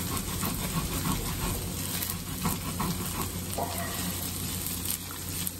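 Sea robin roe and eggs sizzling steadily in a hot pan, a continuous close frying hiss with small pops and crackles throughout, no talking.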